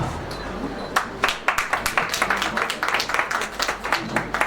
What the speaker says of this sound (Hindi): एक बार फिर तालियों के साथ हम अभिवादन करें।